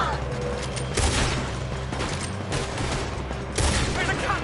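Gunfire during a shootout in the video game Red Dead Redemption 2, with dense, irregular bursts of shots and heavier booms coming in waves, mixed with shouted voices.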